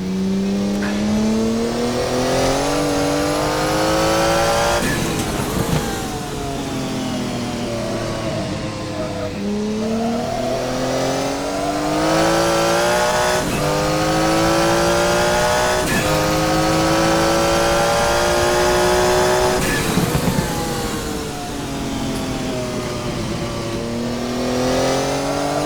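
A Porsche 956 turbo race car in a historic racing game at Jacarepagua revs loudly in repeated climbing pulls, with pitch sweeping up through the gears and dropping at each shift, occasionally with tire squeal.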